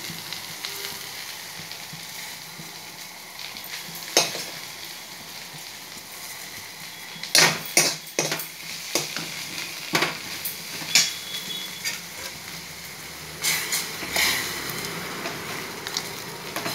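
Okra sizzling as it fries in a pan for a spicy buttermilk curry, with loud clinks and scrapes of a spoon stirring against the metal at intervals over a steady hiss.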